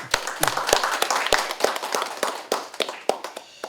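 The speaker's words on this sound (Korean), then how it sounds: "이주영 전 국회 부의장님한테 다시 한번 큰 박수 보내주시기 바랍니다" Scattered, uneven hand claps from a seminar audience at a national governance strategy forum, loud and sharp at first, then thinning into sparse individual claps over a few seconds.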